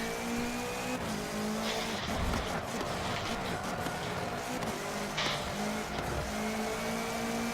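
Engine roar and tire noise from a 2016 Subaru WRX rally car in Forza Motorsport 7 as it performs a handbrake turn, a steady loud drone with gear-like tonal lines and brief skid bursts throughout.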